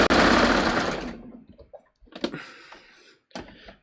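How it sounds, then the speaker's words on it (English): A serger sews elastic onto fabric for a baby project, with one loud, steady motor whir at the start that stops after about a second, followed by quieter handling clicks and two brief bursts of stitching. "I'm going to serge, and I'm stretching the fabric to, I'm stretching the elastic to match the fabric"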